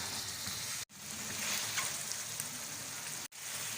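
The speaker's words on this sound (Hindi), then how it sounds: "टमाटरों को हम 2-3 मिनट फ्राई करेंगे" Tomatoes frying with chicken in a hot pan for biryani, a steady loud sizzle with no voices, twice cut by brief gaps of silence.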